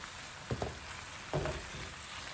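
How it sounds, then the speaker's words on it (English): Tomatoes and sauce for a pan pizza sizzle steadily in a hot pan, a constant close frying hiss broken by two brief stirring scrapes, no voices over it. "I have been sauteing it for about 5 minutes after putting the tomatoes"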